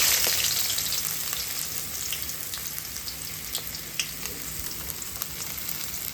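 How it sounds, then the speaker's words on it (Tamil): Onions frying in hot oil give a steady, bright sizzle close to the pan, with small pops and crackles scattered through it and the hiss easing slightly over time. "எண்ணெய் காஞ்சிச்சு, ஆனியன் போட்டு"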